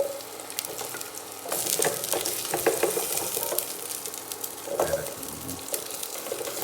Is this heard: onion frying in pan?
yes